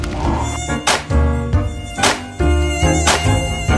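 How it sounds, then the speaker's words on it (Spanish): A mosquito buzzes close and loud at bedtime, the whine rising and falling in several swells over a few seconds with no talk over it. "¿Eso es un zancudo?"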